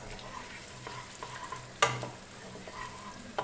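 Paneer deep frying in hot oil, a low steady sizzle with a sharp clatter of the pieces going in partway through, then quieter bubbling and a small knock near the end.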